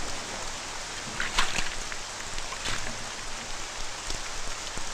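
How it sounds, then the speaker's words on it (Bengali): Steady rain falls in a film scene, a broad constant hiss with scattered louder drops and splashes, with no talking. "বৃষ্টি পড়ছে।"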